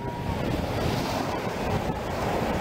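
Surf breaking and washing onto a Black Sea beach at Sunny Beach–Sveti Vlas, Bulgaria, in summer, a loud, continuous roar of rough waves mixed with wind buffeting the microphone, with no voices.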